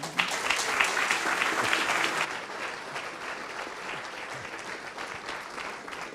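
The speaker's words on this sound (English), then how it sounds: "Give him a warm applause," Audience applause at a conference livestream, a steady wash of clapping from many hands that starts full and slowly thins and softens toward the end, with no talk over it.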